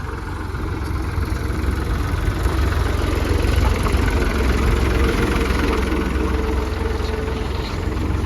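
A tractor engine runs loud and close with a steady heavy low rumble and vibration, the throttle raised slightly so the drone thickens without sharp revs.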